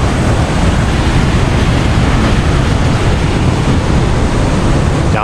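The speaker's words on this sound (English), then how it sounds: "Water just rushing down there." Water rushing down a dam at Lake Bronson in northwestern Minnesota, a loud, constant broadband roar with no pauses, close by and uninterrupted.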